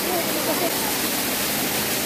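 Strong rushing water roars continuously at a hot spring, a dense, loud, close wash of sound with no breaks.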